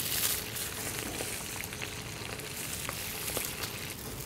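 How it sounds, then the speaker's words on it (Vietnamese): Food frying in a pan over moderate heat gives a continuous close sizzle with small crackles and pops throughout, and no talk. "Khi chiên các bạn cho vào chỉ đẩy nhẹ thôi."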